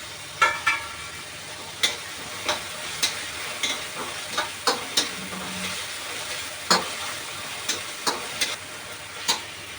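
Tomatoes fry in hot oil with homemade spice masala, a steady close sizzle broken by regular scraping and tapping strokes of a spoon stirring in the pan.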